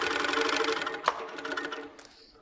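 A sewing machine stitching a quilt panel at close range, running in a fast steady whir with rapid needle pulses that slows and stops about two-thirds through, followed by a faint clunk.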